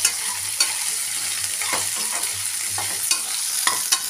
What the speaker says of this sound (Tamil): இப்போ சுண்டைக்காயை சேர்த்து நல்லா வதக்கிக்கலாம்.